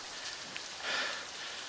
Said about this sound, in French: Et cette pluie.